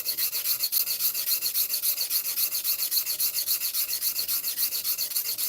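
Steady rhythmic rasping strokes as a Stanley No. 4 hand plane part, a chip breaker or blade, is rubbed flat on 400 grit abrasive, close and continuous with no talking.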